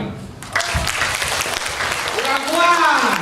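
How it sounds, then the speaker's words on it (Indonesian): An audience at a Partai Demokrat gathering in Bengkulu claps hands together in a loose, moderate burst that starts after a short pause, with voices calling out over the clapping toward the end. "angkat tangan di atas, tepuk tangan rame-rame."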